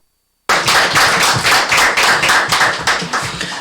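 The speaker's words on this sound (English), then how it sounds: "I don't think I've ever heard this level of thunderous applause" Loud, sustained applause from a crowd, many hands clapping densely and continuously after a brief silence.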